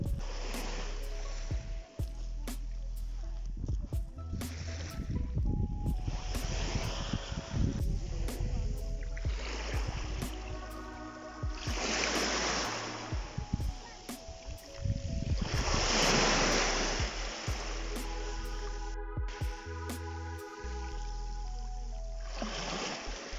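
Sea waves wash ashore at Blue Bay beach in Gelendzhik on a warm, sunny day, swelling and receding in broad surges near the listener, with wind and clattering handling noise close to the microphone and no talk.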